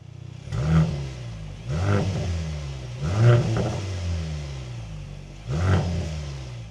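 A Mercedes-AMG GLC 43's 2-liter four-cylinder car engine revs repeatedly, each rise swelling and falling back to idle in a steady, throaty rhythm.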